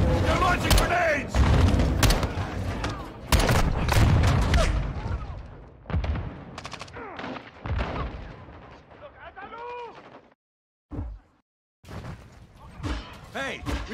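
Grenade launches and gunfire in the Call of Duty MW2 video game, a loud burst of booming blasts and shots up front that thins into scattered bangs, with soldiers' voices shouting over the combat.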